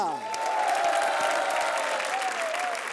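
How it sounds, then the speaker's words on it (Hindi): A studio audience on a comedy show applauds and cheers loudly and continuously, with a sustained musical tone running beneath the crowd noise. "मानव और अर्चना के लिए जोरदार तालियां।"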